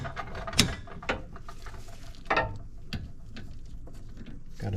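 Ratchet wrench turning a 12 mm bolt on the rear brake caliper of a 2008 Acura MDX, giving a few close, sharp clicking bursts separated by quieter pauses.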